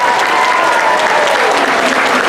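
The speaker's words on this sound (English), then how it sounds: "Congratulations, guys, you deserve the applause." An audience at a Believe and Achieve awards event gives loud, dense, continuous applause for honored athletes, with faint voices beneath.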